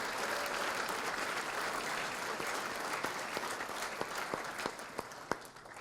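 A room full of people applauds the 2018 class of Hamilton Athletic Hall of Fame inductees, steady dense clapping that carries on throughout and thins slightly near the end, with a few sharper individual claps standing out.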